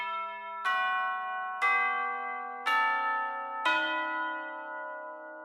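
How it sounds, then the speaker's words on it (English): Tubular bells in orchestral game music for Halo, four bright metallic strikes evenly spaced about a second apart, each ringing with long shimmering decay over a sustained low tone, alone without voices. "you've got to have some tubular bells in there"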